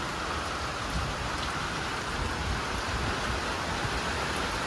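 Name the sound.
rain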